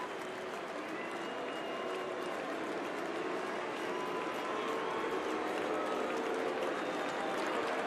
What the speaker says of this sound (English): Crowd with the Moose call here at the stadium.